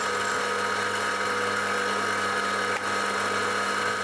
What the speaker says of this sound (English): It's a small end mill, so I think we'll run that about 1000 RPM